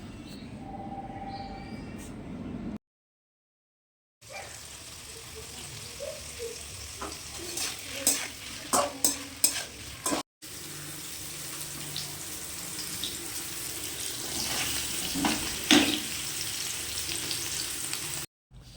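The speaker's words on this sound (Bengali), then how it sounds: "আমি এর মধ্যে অল্প হলুদ এবং অল্প লবণ দিয়ে একটু বেশিক্ষণ ধরে পানিরটি ভেজেছি" Paneer frying in oil with turmeric and salt, a fairly quiet sizzle with stirring clatter and brief pauses where the sound cuts out, heard close without talk.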